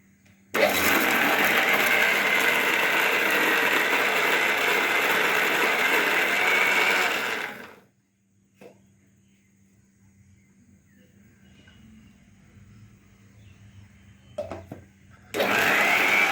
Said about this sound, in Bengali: এই ছোট বাটিতে আমি দুবার মিক্সিতে করে ভরে পিষে নেব